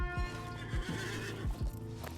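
A new horse in a video game gives a bright, close whinny while its hooves trot in a quick, regular clip-clop rhythm over a dense musical backdrop.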